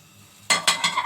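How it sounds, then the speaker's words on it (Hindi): Bread pieces dropped into hot ghee with cardamom, bursting into loud sizzling frying sound in a few sharp surges over about a second, close and without talk. "जैसे ही घी गर्म हो तो फिर मैं ये अपने ये वाले ब्रेड के सारे पीसेस जो है फ्राई करूँगी।"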